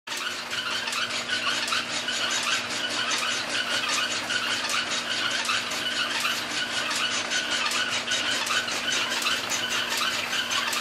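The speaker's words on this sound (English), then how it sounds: "He's running the lathe." Lathe running in a workshop during a 1946 Ford bed build, a continuous high whine with steady broadband machining noise, constant and close with no talk over it.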